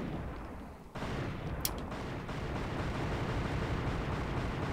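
Gunfire in the action game Devil May Cry 2: a sudden booming burst that settles into a continuous dense roar of shots and blasts, with a sharp crack shortly after, loud and with no talking.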